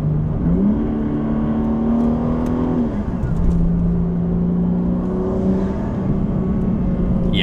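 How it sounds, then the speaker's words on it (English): A BMW G80 M3 Competition with its exhaust rumbling steadily as the engine note shifts up and down, heard from inside the car with faint talk in the background. "a little bit more exhaust, a little more rumble, exhaust rumble"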